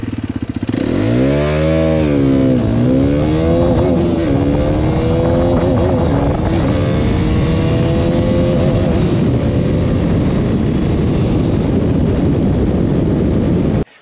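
A Hero Xpulse 210 motorcycle engine roars close by, pitch climbing through several gear shifts as it accelerates hard from 0 to 60 on a road, loud and continuous throughout.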